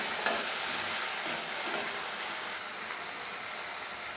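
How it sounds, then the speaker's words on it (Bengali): Ginger garlic paste frying in a pan while being stirred, a continuous close sizzle with soft scraping of the spoon, no voices. "আদা রসুনের কাঁচা গন্ধটা চলে যাওয়া পর্যন্ত আমি একটু নাড়াচাড়া করব"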